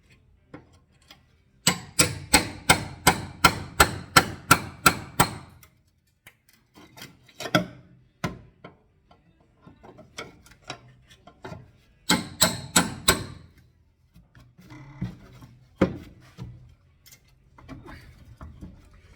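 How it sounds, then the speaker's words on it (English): Hammer and chisel knocking out spot welds on a rusty Datsun Z frame rail, sharp metallic strikes in two rapid bursts of about ten blows each, with scattered single knocks between, close and loud. "I'm just knocking out the spot welds because I can't get to them to the other side, so it's a lot of hammering"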